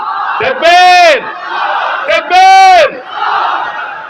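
A crowd at an Islamic religious sermon roars the takbir, "Allahu Akbar," in two loud unison shouts. A speaker's amplified voice rings out in the pauses before and between the shouts.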